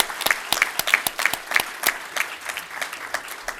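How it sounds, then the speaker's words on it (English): Applause at an employee service award ceremony, a short burst of rhythmic clapping from an audience that fades out after about three seconds. "big round of applause"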